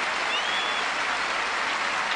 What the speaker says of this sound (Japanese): 大きな拍手がナスターセに迎えられています。